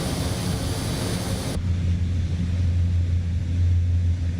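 Steady, loud drone of the NAMC YS-11 aircraft engines in Microsoft Flight Simulator, a continuous airliner hum with a strong low rumble that shifts to a deeper tone partway through, with no talking.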